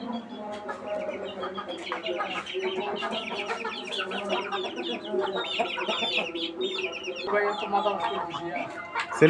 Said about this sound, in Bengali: এই যে তার মুরগের খামার